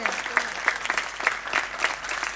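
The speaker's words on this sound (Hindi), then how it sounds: "भरपूर तालियों के साथ मुबारकबाद पेश करते हैं" A congregation at a Thanksgiving first Holy Mass claps together, a lively, fairly close burst of applause with faintly rhythmic peaks that stays steady throughout.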